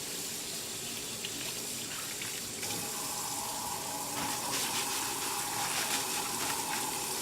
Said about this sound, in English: First thing I'm going to do is I'm going to wash my hands.